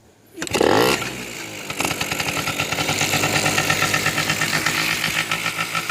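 A Yamaha Chappy moped engine cranks and catches at once, revving briefly, then settles into a steady, putting two-stroke idle, loud and close, with no voices.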